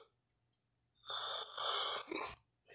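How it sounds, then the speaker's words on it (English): A man yawns loudly close to the microphone, a long breathy, noisy exhale broken into a couple of drawn-out pulses between brief silences. "Sorry about the yawning"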